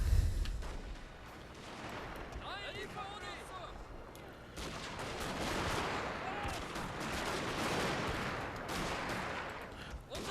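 Line infantry kneeling and firing volleys in the Total War: Shogun 2 Fall of the Samurai battle, dense crackling musket gunfire rolling continuously with a steady battle din, mid-distance and fairly loud throughout.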